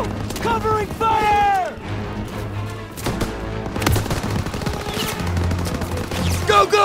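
Dense battlefield gunfire from the shooter Call of Duty: Vanguard, with rattling machine-gun bursts and booms mixed under shouted voices, loud and continuous throughout.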